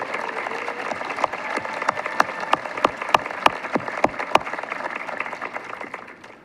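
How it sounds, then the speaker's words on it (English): Graduation audience applauding retiring staff, sparse scattered clapping with distinct individual claps standing out over a softer background of hands, close and without talk. "please give a loud round of applause"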